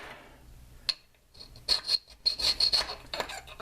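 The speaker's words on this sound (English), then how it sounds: "So I just got to shave a little bit off." A rasping file scrapes wood in a quick run of short strokes, close and fairly loud, after a few softer rubbing passes.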